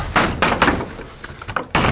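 A door being held shut and rattled at night in a village; several loud, sharp knocks and rattling thumps come in bursts, close and forceful.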